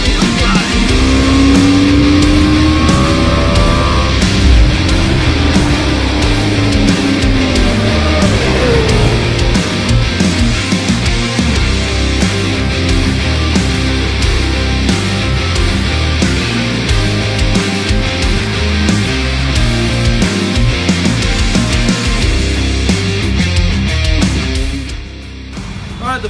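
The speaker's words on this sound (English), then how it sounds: "today we'll be test riding the BMW G310r" A BMW G310R motorcycle on a test ride, its single-cylinder engine droning loud and steady with shifting pitch as it accelerates and changes gear, wind rush over the top, easing off near the end.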